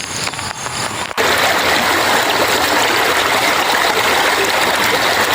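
Steady rushing water of a cold rural stream, loud and close, filling the clip after a brief quieter, muffled opening.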